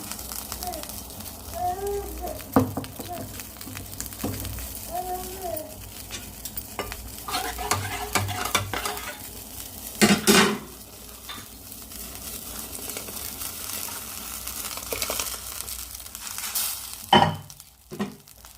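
Blended tomato and beetroot go into a boiling pepper rasam, followed by repeated stirring in the pot with scraping strokes and a low bubbling sizzle throughout, plus a few louder clunks and faint voices in the background.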